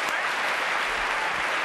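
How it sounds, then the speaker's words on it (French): A French television studio audience claps in a continuous, even wash of applause, loud and steady throughout with no break. "Applaudissements"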